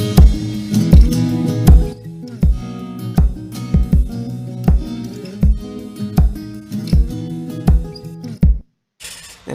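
Guitars strum a rhythmic, choppy part with short percussive muted strokes and brief gaps, dense and fairly loud, repeating in a steady groove before cutting off near the end.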